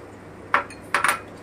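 Sugar is added to palm pulp in a bowl, heard as a few close metallic clinks of a spoon against the bowl, one and then a quick double tap, over quiet background.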